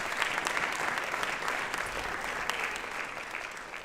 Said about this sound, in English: a round of applause again for all of our speakers